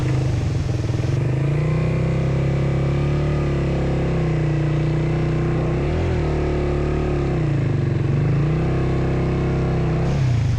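Motorcycle engine on a rough, rocky mountain road revving hard and steadily while its wheel sits stuck in mud, with the pitch dipping and surging on repeated throttle blips, loud and close.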